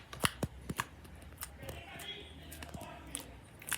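Purple slime squeezed and pressed by hand gives off a series of sharp, close clicks and pops at an uneven rhythm, fairly quiet overall with faint voices in the background.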